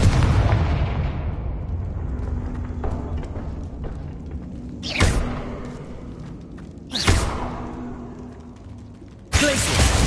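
Confringo fire-blast spell cast in Hogwarts Legacy, a loud opening burst fading into a low rumbling bed, then sharp whooshing cracks of impact recurring every two seconds or so, ending on another sudden blast.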